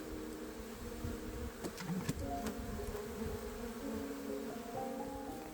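Dense, steady buzzing of many honeybees inside an open second brood box of a hive, close and continuous with no voices.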